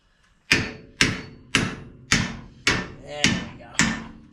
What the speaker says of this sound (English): Here's my hammer. I'll try tapping that in.